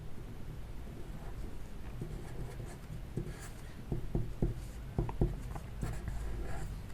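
A pen scratches across paper as an Arabic word is written, soft rubbing strokes with a few crisper taps midway, close and quiet over a steady background hiss.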